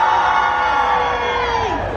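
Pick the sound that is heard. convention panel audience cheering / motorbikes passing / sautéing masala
convention panel audience cheering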